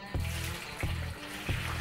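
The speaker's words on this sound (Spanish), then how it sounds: "Llenamos la vasija" Water running into a vessel for home brewing an IPA, filling in three short bursts, each a close, low gurgling pour followed by a brief pause.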